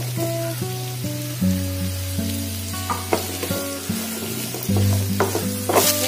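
Onions and capsicum sizzle steadily in hot oil in a pan while cooking an egg chilly omelette, with occasional stirring scrapes and a tonal hum beneath; the frying stays close and continuous throughout.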